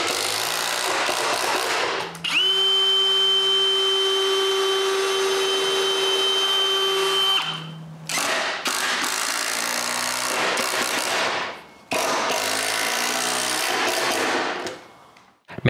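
A power drill drives screws into a wooden center support, giving several whirring bursts of a few seconds each, separated by short pauses, close and alone without talk.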